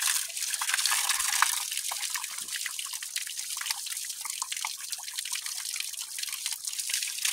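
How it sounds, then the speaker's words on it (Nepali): Spring water running from a wooden spout at a village water point in Nepal, a close, steady trickle with lively dripping and splashing, continuous and alone without speech. "काठको पँधेर"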